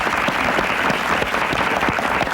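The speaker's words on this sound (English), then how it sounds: "they spontaneously broke into a welcome round of applause, and I would like you to do that again" Studio audience applauding Senator Wendell Anderson on a television interview show, a dense, steady burst of clapping filling the whole moment without any talking.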